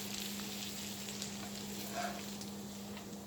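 Shrimp hibachi fries and sizzles in a pan on a stovetop burner while being stirred, a steady close hiss with a low constant hum beneath and brief scraping bursts, no talking.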